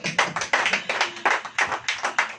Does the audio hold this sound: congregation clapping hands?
yes